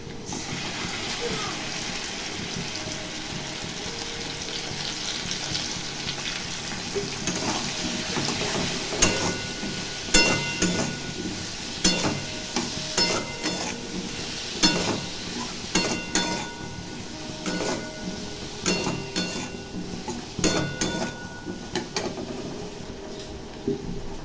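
Turmeric, cumin, salt, dried and green chilli, ginger paste and tomato sizzle with fried potato in a pan for a watermelon curry, a steady frying hiss broken by sharp clatters of stirring that grow busier toward the end.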